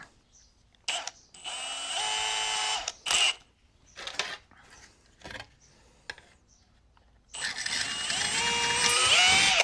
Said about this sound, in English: Just a 1/4 inch drill bit